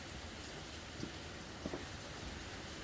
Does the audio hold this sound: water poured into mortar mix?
no